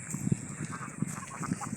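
Farmed ducks, black and sparrow-like in colour, kept at a duck-rearing farm: a few low, close quacks and honks in an irregular cluster over a faint steady background hum, with no talking.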